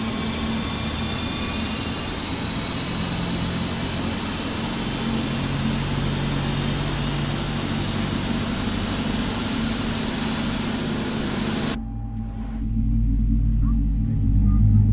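Boeing 777 jet engines running after start in Microsoft Flight Simulator 2024, Emirates livery: a steady, loud broadband roar with a whine on top, shifting to a deeper rumble near the end.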